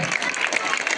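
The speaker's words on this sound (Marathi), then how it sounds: "टाळ्या वाजूया आपण." Applause from an audience at a school gratitude ceremony where a harmonium and tabla are being donated, steady dense clapping filling a short moment with no pauses.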